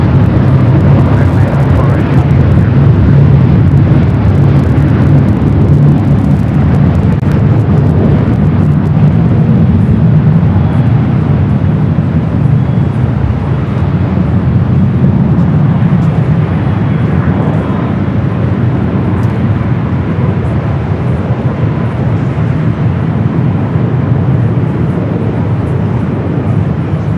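A large airliner rolls down runway 24 left at LAX, a loud, steady, rumbling engine roar that holds for the whole stretch while voices talk over it.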